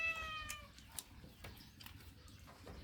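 A cat meows a few times, faint and drawn-out, in a quiet outdoor setting where soft scattered background noises continue around the calls.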